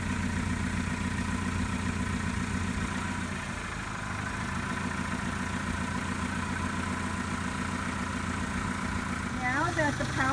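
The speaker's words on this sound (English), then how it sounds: "The engine is running throughout the service." A car engine idles steadily through a power steering flush service, a low, even drone held for about ten seconds with a faint mechanical whine rising briefly near the end.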